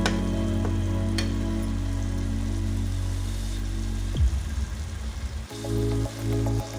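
Washed wire fish (vaire) tipped into hot oil and masala that has begun releasing its oil, sizzling steadily with a low rumbling crackle, a sharper burst as the fish hits the pan, then continued frying.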